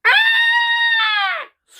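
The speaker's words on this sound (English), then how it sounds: "screech cut through the air" A ghostly phoenix lets out a single drawn-out screech, a loud, harmonically rich shriek that holds steady for over a second before falling off abruptly.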